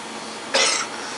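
A single short, harsh cough close to the microphone, standing out from a steady background hiss.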